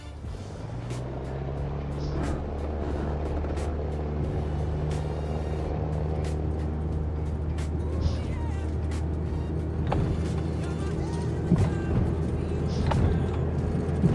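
Cessna 172 piston engine at full throttle for takeoff in Microsoft Flight Simulator, a steady loud droning rumble with strong low harmonics holding throughout, faint clicks and light talk occasionally over it.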